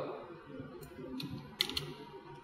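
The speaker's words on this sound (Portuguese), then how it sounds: "Aperto Enter." A few light computer keyboard keystrokes, including a firm press of the Enter key, during Photoshop editing; brief, close clicks with a couple of sharper taps near the end, heard alone.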